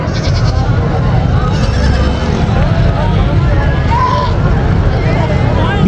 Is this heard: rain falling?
no